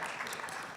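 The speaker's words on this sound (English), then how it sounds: "Spontaneous applause" Audience applause in a conference hall, a dense steady patter of clapping held at full level for under a second.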